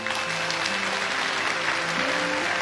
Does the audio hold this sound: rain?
no